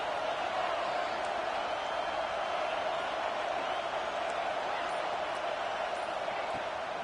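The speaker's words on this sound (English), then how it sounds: "This crowd trying to make life miserable for this offense." A college football stadium crowd roars as a steady, dense wash of noise, loud and continuous, with no distinct cheers standing out.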